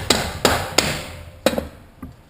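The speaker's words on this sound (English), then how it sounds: "Easiest way to put these on is hammer screwdriver" Sharp metallic hammer blows drive a retaining ring onto a 4L60E transmission part through a screwdriver, with four distinct strikes spaced irregularly and a fainter fifth tap near the end, no talking.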